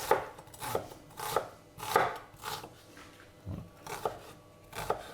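A small shallot being finely chopped with a knife on a board, a series of crisp irregular knife taps and thuds, close and fairly quiet, with no speech.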